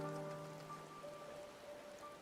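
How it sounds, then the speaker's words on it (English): Rain falling in Final Fantasy XIV Endwalker, a soft steady patter on surfaces, faint and continuous beneath a sustained tonal musical drone. "It's raining."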